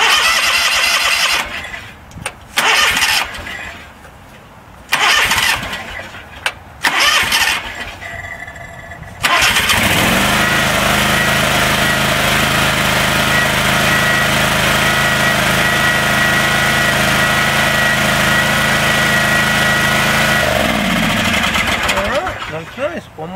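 A Wright Stander mower engine, run with the choke on after a starter replacement, cranks in several short attempts, catches and runs with a loud steady drone, then shuts off and winds down.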